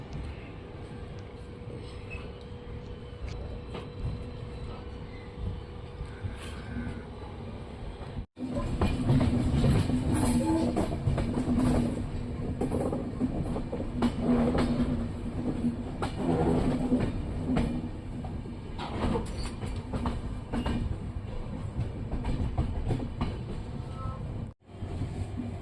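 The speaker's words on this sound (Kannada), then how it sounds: "ಇಲ್ಲಿಂದ ಡೀಸೆಲ್ ಲೋಕೋ ಹಾಕ್ಕೊಂಡು ಹೋಗ್ತಿದೆ ನಮ್ಮ ಟ್ರೈನು" Basava Express hauled by a diesel locomotive, heard from inside the train as a loud, steady rumble with rhythmic clickety-clack over the rails that swells after the first few seconds and continues, no talk.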